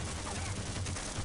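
Rapid, steady automated turret gunfire in the Half-Life video game fills this brief moment as a dense, continuous rattle with no voice over it.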